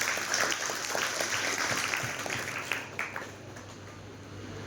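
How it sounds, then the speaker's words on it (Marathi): A group claps together in a thick, steady patter during a classroom-style session about overcoming board exam fear. The applause thins and fades in the last second or so, leaving a quieter background. "टाळ्या वाजवायच्यासाठी."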